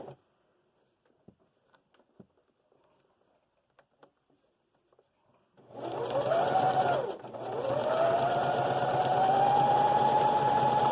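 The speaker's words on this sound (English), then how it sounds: "So we're going to sew and back stitch." Sewing machine stitching forward and back-stitching, first a few faint handling ticks in near silence, then a steady loud whirring hum that halts briefly and resumes, running continuously up close.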